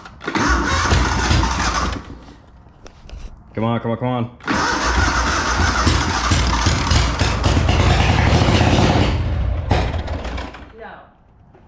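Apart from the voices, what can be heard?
riding mower engine starting and running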